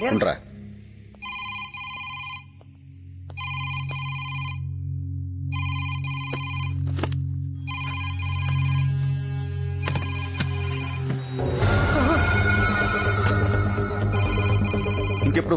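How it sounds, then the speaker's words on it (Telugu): A phone rings in repeated evenly spaced bursts over a low drone, then clattering noise takes over near the end. "రింగ్ అవుతుంది కానీ ఎవరు ఎత్తట్లేదురా"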